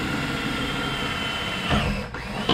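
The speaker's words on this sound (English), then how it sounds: "just go ahead and drill your hole" A power drill with a 3/8-inch bit whirs steadily at close range drilling a hole in a kayak's track area, its pitch dipping briefly near the end as it bores through material.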